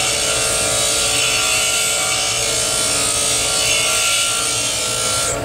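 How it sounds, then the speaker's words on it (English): A steel lathe threading tool bit is ground on a bench grinder, a loud, continuous close-up rasping whine that holds steady and unbroken throughout. "we're just going to grind this lathe bit just like this."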